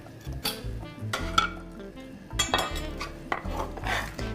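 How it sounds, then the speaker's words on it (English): Onions and carrots sauté in olive oil in a 6-quart pot for Italian pasta e fagioli soup, with a spoon scraping and clinking against the pot over a soft sizzle. "now we're going to saute the onions and carrots."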